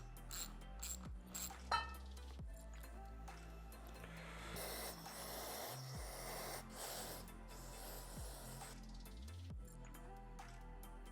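Bolts are worked loose from the stator on a KTM/Husqvarna/GASGAS 250/350 two-stroke engine during a bottom-end rebuild: close, sharp ratchet clicks and metallic taps, then a steady mechanical rattle of the tool, with no voices.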